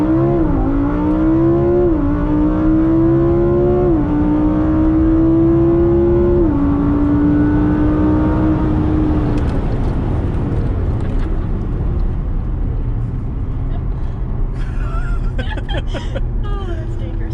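An Acura NSX engine revs hard under acceleration during a race, rising in pitch through several gear shifts. The loud whine is heard from inside the car, then it fades into road rumble and wind with faint voices near the end.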